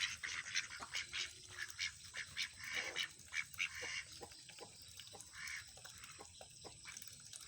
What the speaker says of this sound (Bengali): এইখানে আমার হাঁস আছে কিছু